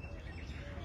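Crows call from an Indian coral tree, brief chirping bird calls close by, with no other sound over them.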